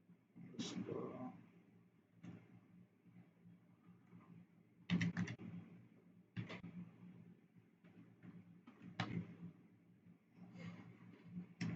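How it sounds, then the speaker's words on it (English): Typing on a computer keyboard: scattered bursts of quick, light key clicks with pauses between them, faint and close, over a low background hum. "gonna type this in"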